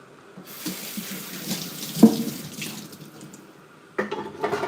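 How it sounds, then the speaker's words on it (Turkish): Hot water runs from a kitchen tap into a sink as a steady close splashing stream, briefly louder in the middle and with a burst of sloshing near the end. "Biraz daha sıcak su koyuyoruz."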